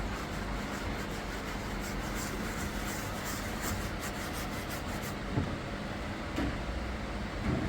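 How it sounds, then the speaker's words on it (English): A dry microfiber cloth is rubbed over damp carpet after red wine spot cleaning, giving a soft continuous scrubbing hiss with faint rhythmic strokes, close and steady, with no talking. "now we're going to get our dry microfiber cloth just to dry the actual carpet"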